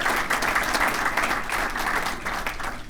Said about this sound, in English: let's give Jan Vogel another round of an applause